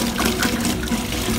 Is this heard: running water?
yes